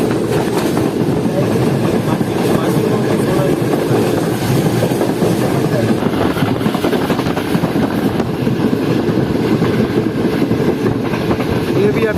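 Karakoram Express running at speed behind GU40 locomotive 9023 through Sadiqabad, a loud continuous rumble of wheels and engine with rhythmic clatter throughout.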